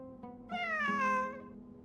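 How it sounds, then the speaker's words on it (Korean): A cat meows once in Genshin Impact, a clear drawn-out call that falls in pitch and stands alone over a quiet game backdrop. "진짜 고양이야."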